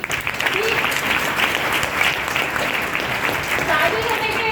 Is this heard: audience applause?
yes